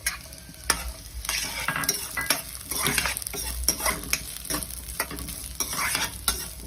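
Chopped vegetables, onion and corn kernels for spring roll filling, sizzle and hiss in hot oil in a pan while being stirred, with steady frying crackle and repeated scraping strokes of the spoon throughout.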